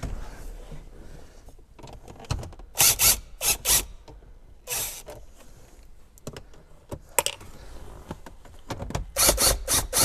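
Ratchet clicking as two small 10mm bolts come out of a Toyota Prius dash multifunction display, quick close bursts of metallic ticks with short pauses between, fairly quiet.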